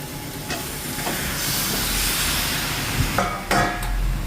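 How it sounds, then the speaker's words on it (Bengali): Chicken pieces hitting hot fried spice masala in a pan, a loud continuous sizzle and hiss with a few sharper crackles and stirring knocks, no talking. "মশলা কষা হয়ে গেছে, এবার মাংসটা দিয়ে দেবো"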